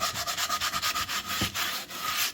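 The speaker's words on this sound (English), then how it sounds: "As I'm going over it here with this, you can feel where the rust is at because it kind of grabs the foil." Aluminum foil scrubs rust off a cast iron skillet in quick back-and-forth strokes, a steady rhythmic gritty rasping up close, with a few slightly harder passes near the end.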